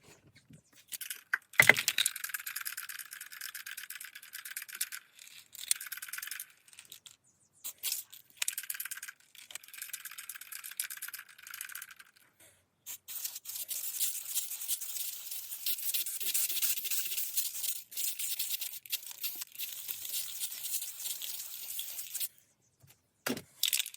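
A brush spreads ceramic coating over an exhaust manifold at home, giving a close, steady rubbing and scratching that starts and stops in short strokes, then runs continuously for several seconds.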